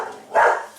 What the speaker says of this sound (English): Fuck off and shut up, dog.